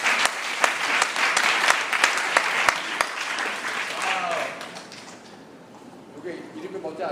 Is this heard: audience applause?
yes